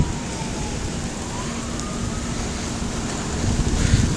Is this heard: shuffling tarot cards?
no